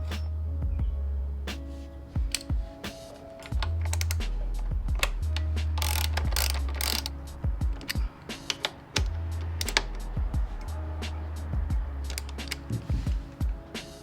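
A ratchet clicks in quick bursts while running bolts into a Ducati caliper spacer, rapid pawl ticking close up, starting and stopping repeatedly with short pauses and light metal taps between, no talking.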